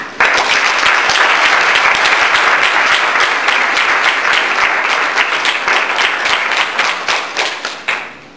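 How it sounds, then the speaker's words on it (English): An audience at an anti-gun-violence youth event gives a hearty round of hand clapping, loud and dense from the start, holding steady for several seconds before tapering off into a few last claps. "I want you to give yourself a hand clap"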